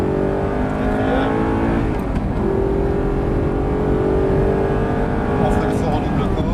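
An Audi R8 accelerates on the Lohéac race track during a driving course, its engine note loud and sustained from close inside the car, pitch rising steadily through a gear, while an instructor talks over it.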